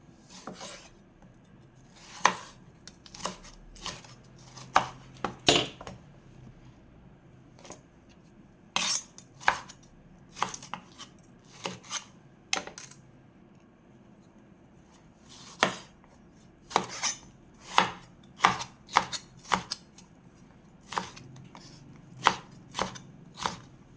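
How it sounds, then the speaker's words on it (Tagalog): Knife chopping vegetable ingredients for diningding on a cutting board, a steady run of sharp, close taps in uneven bursts with short pauses between, no voices. "Tara, gayatin na natin ang sahog."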